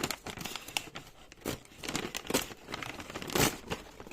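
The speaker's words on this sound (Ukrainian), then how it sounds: "Так прикольно тепер пакетики відкривати" Close crinkling and tearing of thin plastic Lego packets, in short irregular bursts with brief pauses, no talking.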